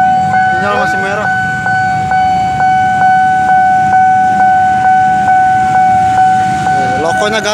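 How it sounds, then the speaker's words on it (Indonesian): An empty coal train held at a red signal in Indonesia rolls slowly past with a steady, rhythmic clack of wheels over rail joints, while a constant high tone rings and a voice speaks briefly. "Berjalan perlahan kereta Batubara."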